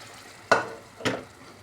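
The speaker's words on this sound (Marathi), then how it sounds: "आपण आता शिजलेली डाळ याच्यात टाकू उडदाची" Cooked black urad dal tipped into frying black masala in a pan, two loud wet splashing sizzles about half a second apart, each fading into a soft crackle.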